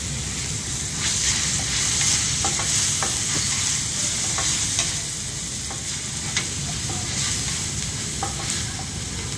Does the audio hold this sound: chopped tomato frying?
yes